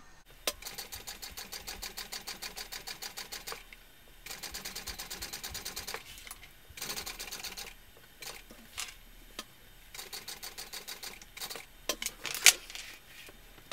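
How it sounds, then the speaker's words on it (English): A sewing machine topstitches along the edge of a mini backpack, an eighth of an inch in. Its rapid needle chatter comes in several close bursts, separated by short pauses and small handling clicks. "I'm going to do it an eighth of an inch from both edge"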